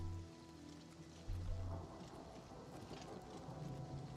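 Thunder in the video game Oblivion rolls faintly under steady rainfall, a low rumble that swells briefly near the start amid a soft, continuous storm backdrop.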